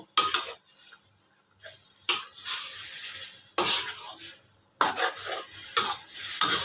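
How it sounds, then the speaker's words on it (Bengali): Chicken pieces stirred into a cooked spice masala in a pan, with loud scraping bursts and clanks from the utensil against metal, close up and coming in uneven strokes. "চিকেনগুলো দিয়ে দিলাম, দিয়ে মশলাটাকে মিক্স করে নিব"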